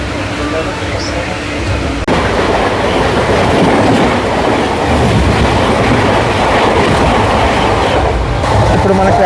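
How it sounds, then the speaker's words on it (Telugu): Bengaluru–Bhubaneswar Superfast train crossing on the coastal line, a loud, continuous roar with rhythmic clickety-clack of wheels over rail joints, filling the whole stretch up close. "ఇప్పుడు మన క్రాసింగ్ అయిన బండి బెంగళూరు భువనేశ్వర్ సూపర్ ఫాస్ట్"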